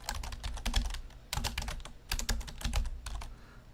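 Typing a folder name on a computer keyboard, several quick bursts of key clicks separated by short pauses, close and clear.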